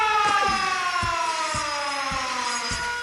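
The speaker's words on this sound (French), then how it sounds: "une sirène qui s'entendait dans toute la ville" Factory siren of the Châtellerault arms manufactory, a loud sustained wail with a slowly falling pitch, heard alone with a few low thumps underneath.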